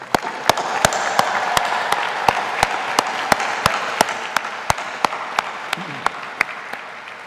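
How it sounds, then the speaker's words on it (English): A graduation audience at the Heinz College, Carnegie Mellon University diploma and awards ceremony applauds in a broad, sustained wash of clapping, with a few close, sharp claps recurring steadily above the crowd throughout. "Please join me in a well-deserved round of applause for their outstanding accomplishments"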